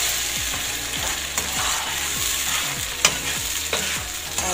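Tomato puree being stirred in a pan on low heat for egg stew, a steady loud sizzle with rhythmic spoon scrapes recurring about twice a second, close and continuous.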